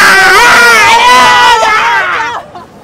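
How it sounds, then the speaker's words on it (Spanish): Boca Juniors football fans shout loudly in a sustained, strained cry that fades out toward the end, heard alone and close. "grito de, como siempre, del hincha de Boca"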